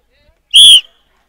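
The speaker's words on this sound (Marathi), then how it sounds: "शिट्टी वाजली." A referee's whistle blows at a mud ploughing race in Lanja, Maharashtra. It gives a single loud, shrill blast of about a quarter second, heard alone against near silence.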